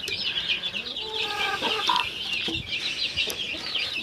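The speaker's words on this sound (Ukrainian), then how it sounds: "То побачимо, що то будуть за курочки." Chickens cluck steadily in a Ukrainian backyard poultry yard, a dense cluster of close, overlapping calls with a few brighter chirps cutting through, no talking.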